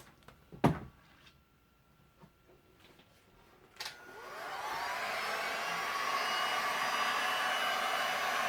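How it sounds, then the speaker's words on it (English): A heat gun starts up and blows steadily on a resin amethyst slab, a loud continuous whoosh rising after a few faint clicks and knocks, then holding alone to the end. "Time for the heat gun."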